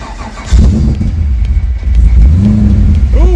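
A rebuilt LSZ car engine cranks, catches and starts, then revs up and settles into a loud, close, rumbling idle with uneven throttle blips.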